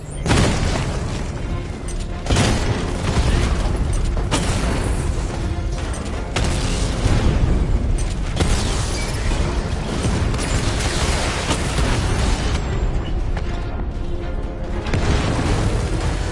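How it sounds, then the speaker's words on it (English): A 60mm cannon firing at heavily armored units in the Batman: Arkham Knight video game, heard as loud, dense, repeated booms and blasts over a continuous rumbling roar with no pauses. "Your 60mm cannon will penetrate these heavily armored units, but it'll take a few direct hits to destroy them."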